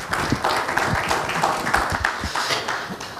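A seated audience at an export-marketing seminar on printing claps for the presenter, a steady, moderately loud patter of many hands sustained throughout.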